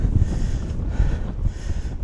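Gusty wind buffets the microphone in low, rumbling surges on the hilltop of Crook Peak in Somerset, loud and close, with no other sounds.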